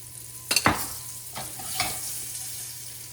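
A boneless pork loin chop browns in hot oil in a pan, making a continuous sizzle with a few sharp crackling spits early on, followed by a steadier fry.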